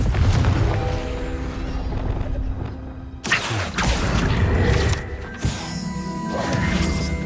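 Explosive Confringo spell cast in the Hogwarts Legacy video game, heard as loud booming crashes and blasts over a dense rumbling game soundscape, with sharp impacts near three and a half and five and a half seconds.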